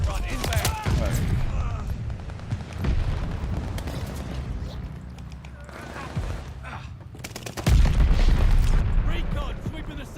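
A friendly bombing run in the Call of Duty Vanguard video game, rapid gunfire bursts and heavy booming explosions rolling through the battle, with voice callouts heard over the din.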